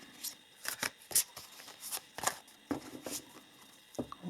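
Oracle cards from a Healers of the Earth deck being drawn and handled, quiet papery flicks and slides coming in several short bursts, close and soft with no voices.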